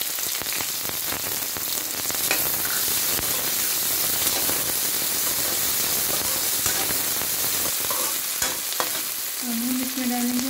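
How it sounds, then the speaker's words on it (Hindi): Loud, continuous sizzling of onions frying in a hot pan, with occasional stirring scrapes and a faint tone near the end. "अब हम इसमें डालेंगे प्याज जो कि मैंने काट लिया था"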